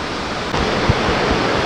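River water rushes through the Reversing Falls gorge in New Brunswick where the river meets Bay of Fundy tides, a loud, continuous broadband roar of flowing water with a brief thump partway through.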